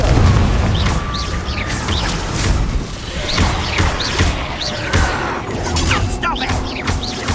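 Confringo fire spells cast in a Hogwarts Legacy battle burst in a loud, dense run of booms and crashes, with whooshing blasts overlapping continuously.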